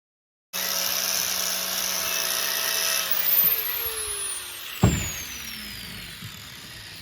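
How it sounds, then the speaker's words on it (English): A grinder fitted with shingled sandpaper thins a beaver hide, a steady high-pitched motor whine that slowly winds down, with a sharp clunk near the end. "Smoothest job that you're gonna get out of a grinder."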